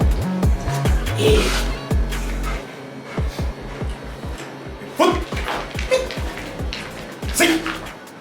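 A dog barks and yelps in short, uneven bursts during obedience training for the sit-in-motion exercise, close and fairly loud, with brief whimpers between the barks and a handler's voice heard now and then.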